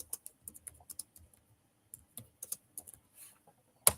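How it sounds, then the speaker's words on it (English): Fingers tap on a computer keyboard in irregular clicking bursts with short pauses, fairly faint and close, ending with one sharp louder keystroke and no talking. "Let me type this in the chat."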